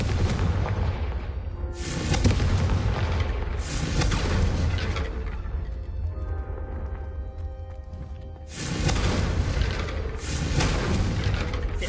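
Confringo blasting curses in Hogwarts Legacy, a series of loud booming blasts with bright crackling bursts, four or five heavy hits spread across the stretch over a low rumbling background.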